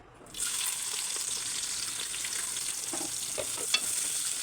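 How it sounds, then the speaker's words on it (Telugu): Onions drop into hot oil left from frying garlic, setting off a sudden loud sizzle that keeps up a bright, even crackle, with a small clink near the end. "ఇదే ఆయిల్లో ఆనియన్స్ వేసుకుందాం"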